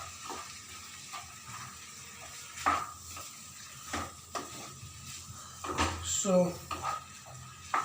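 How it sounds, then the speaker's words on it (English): Poha (flattened rice) is stirred in a pan to mix in a tablespoon of salt, with quiet scraping and intermittent utensil clinks against the metal, soft and close, plus a faint sizzle underneath and a brief spoken word. "1 tablespoon salt I put. And this I'll mix it nicely."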